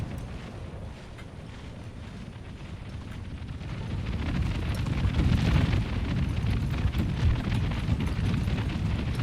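Artillery and mortar fire in a Empire: Total War battle makes a continuous low rumbling roar of booms, building louder after a few seconds and staying heavy to the end.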